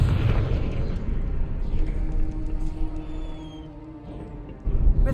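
A Confringo fire spell in Hogwarts Legacy bursting in a loud, rumbling explosion that fades over a few seconds before another heavy blast hits at the end.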